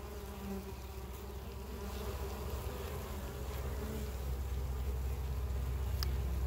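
Honey bees flying into the hive on a spring day, a dense continuous buzzing swarm close by, steady and moderately quiet, with no talking.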